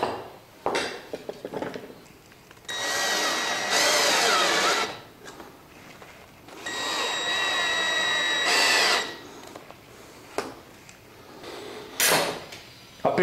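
A power drill bores a hole for a cup hinge on a bathroom cabinet in two sustained whining runs of about two seconds each. Close, loud and alone, with brief clatters and handling knocks around them.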